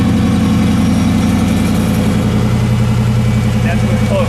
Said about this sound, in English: The open exhaust.